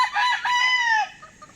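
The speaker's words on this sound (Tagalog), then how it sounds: "Ito yung isang inahin mga parikoy." A Larry Romero Hatch Gray hen close to brooding gives a single drawn-out, rising and falling vocal call lasting about a second, close and fairly loud, then trails off into quiet.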